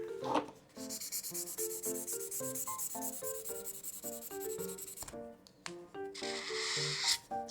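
The chisel tip of an alcohol marker rubs across paper in repeated soft, even strokes, heard under background music.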